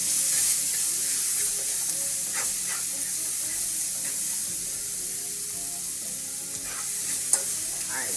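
Onions, garlic and celery sizzle and fry in a pan on a hot stove, a loud continuous crackling hiss with occasional stirring scrapes.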